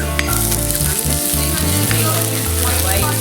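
Onion fries in a pan with a steady, loud sizzle and crackle, close up, continuing with occasional stirring scrapes and a faint background tone.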